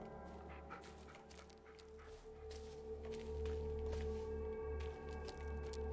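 A dog in the Blair Witch video game whimpers and pants softly over low droning game ambience, fairly faint and intermittent.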